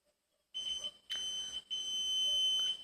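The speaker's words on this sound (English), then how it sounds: "the LED light will glow and the buzzer will be turned on automatically" An IC555-based water overflow alarm buzzer sounds a shrill continuous electronic tone in three bursts, close and alone.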